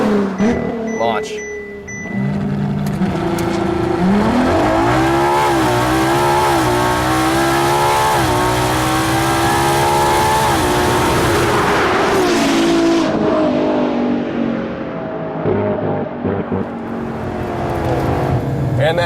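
Ferrari launching on a drag strip: a close, loud engine roar climbs through several sharp upshifts over about ten seconds, then fades as the car recedes, leaving distant engine noise and a voice speaking briefly.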